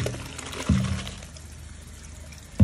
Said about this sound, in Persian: وقت آبکش کردن پاستا است.